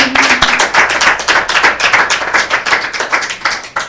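Rhythmic hand clapping of praise by a small church group, sharp close claps in a quick steady beat lasting the whole stretch, loud and without talk.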